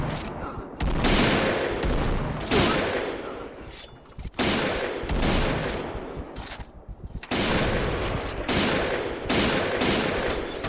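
Gunfire in an online shooter game featuring the PGM Hecate II sniper rifle: loud, heavy bursts of shots and booms come in repeated volleys separated by short gaps.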